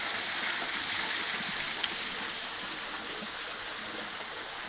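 Spring water pouring steadily from a bica spout in the hills of Portalegre, Rio Grande do Norte, a constant close rushing splash with no pauses and no voices.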